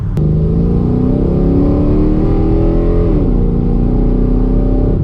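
A Dodge Dakota R/T pickup truck with modified suspension accelerates hard from inside the cab, a loud rising engine roar with a shift partway through before the revs climb again.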